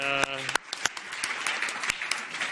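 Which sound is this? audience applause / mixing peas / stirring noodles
audience applause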